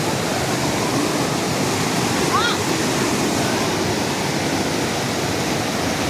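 Floodwater from a swollen river in Sirmour, Himachal, rushes past a house after record rain, a loud continuous broadband roar like a waterfall that stays steady throughout.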